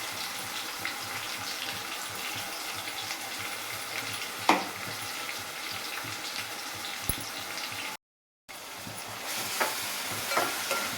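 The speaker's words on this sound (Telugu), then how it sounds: "ఆయిల్ అయితే హీట్ అయిపోయింది ఈ ఆయిల్లోకి ఈ ఆనియన్ అయితే వేసేస్తున్నాను" Chopped onion frying in hot oil for a mango fish curry, a steady broadband sizzle throughout with a few brief clatters of stirring and a short dropout near the end.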